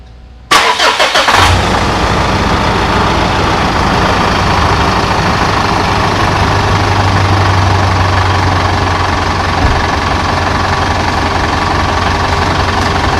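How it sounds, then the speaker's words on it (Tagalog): Car engine cranks and fires after a sharp starter whir, then settles into a loud, steady idle right up close, with no talk, during a coolant temperature sensor check. "Okay, so start natin yung makina"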